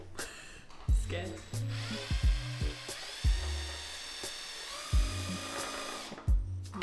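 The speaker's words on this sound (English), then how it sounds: "Might need a more powerful drill." A power drill whirs in repeated short bursts, each start and stop clearly audible, while fixing together a squirrel picnic bench; close and fairly loud with brief pauses between runs.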